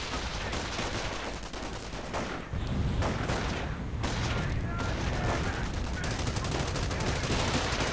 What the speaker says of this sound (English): supported by a heavy machine gun